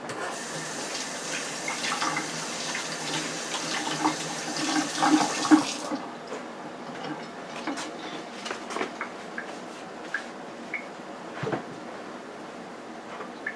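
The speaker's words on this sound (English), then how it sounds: "Let me wash my hands." Tap water runs steadily into a sink for about six seconds while hands are washed underneath, then shuts off, leaving quiet splashes and drips and the faint clatter of handling nearby.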